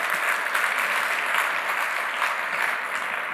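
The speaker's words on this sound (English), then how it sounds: "a round of applause for the friends and colleagues over there" A room full of people at a conference session claps steadily, a dense, even wash of applause that holds at the same level throughout.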